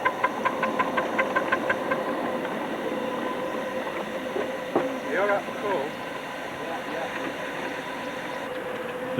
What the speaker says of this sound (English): The build-up of a rake of locos, brake cart coming up.